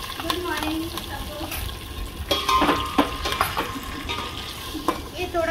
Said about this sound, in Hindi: ये थोड़ा फ्राई करना है